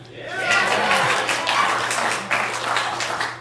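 A podcast audience breaks into applause, a burst of clapping that swells quickly and carries on with a few chuckles and voices mixed in.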